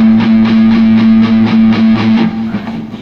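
Palm-muted electric rock guitar chugging a steady riff, tight dampened pulses repeating in an even rhythm with a sustained droning low note underneath, loud and close throughout with no voices.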